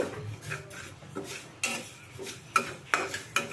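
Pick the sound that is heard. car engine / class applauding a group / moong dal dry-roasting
moong dal dry-roasting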